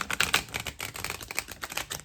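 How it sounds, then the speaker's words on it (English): A deck of Goddess Power Oracle cards shuffled by hand, a dense run of quick papery riffs and flicks up close, with no talking. "Wow, that was a really, really good shuffle."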